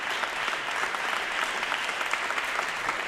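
A crowd at a women's squash world championship match applauds, with dense, steady clapping throughout that sounds fairly close and continuous.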